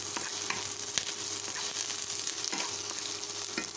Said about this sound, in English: So I will add the beef. I will stir fry the beef.